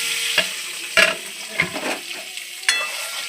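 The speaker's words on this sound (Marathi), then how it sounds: "अंड्याला चांगलं फ्राय करून घ्यायचं।" An egg frying in oil with turmeric and chili in a pan, a constant crackling sizzle broken by a few sharp scrapes and clicks as it is stirred, close by and with no voices.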